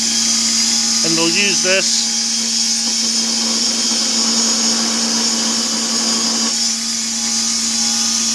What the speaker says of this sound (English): as you can see, I've tilted the grinder on its side